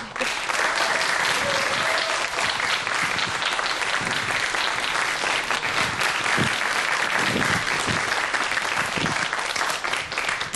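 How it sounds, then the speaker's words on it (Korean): A lecture audience gives a big, steady round of applause to welcome an evolutionary psychology professor onto the stage, the clapping continuous and full for over ten seconds. "큰 박수로 맞이해주십시오"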